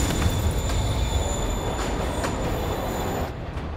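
A subway train pulls out of Grand Central station in Marvel's Spider-Man, a loud, steady rumble of rolling wheels and rail noise with faint squealing and clacking, heard alone without talk.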